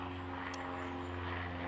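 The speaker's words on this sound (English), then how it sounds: "Pardon the airplane noise here." A propeller airplane drones steadily overhead with a constant humming tone, distant and fairly faint, with no one talking.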